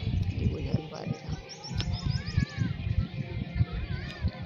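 Pigeon resting in a pigeon house, giving soft low coos and a few thin chirps close by, with a voice talking over the birds and steady background noise.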